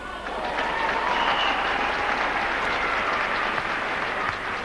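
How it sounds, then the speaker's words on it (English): A crowd at a 1985 Scottish Cup ice hockey game between Fife Flyers and Glasgow Dynamos applauds steadily, a broad sustained wash of clapping filling the arena with faint voices underneath. "And it is Peter Callaghan who wins the applause of the crowd here."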